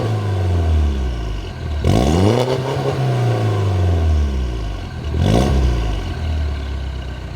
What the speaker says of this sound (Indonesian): kurang lebih kayak gitu guys suara Mini Cooper S ketika digas